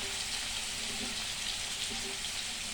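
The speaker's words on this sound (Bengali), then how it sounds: "তেল গরম হয়ে গেছে, তো পনিরগুলো আস্তে আস্তে ছেড়ে নেব।" Pieces of paneer frying in hot oil give off a steady, even sizzle that holds at a constant level throughout, with no talking over it.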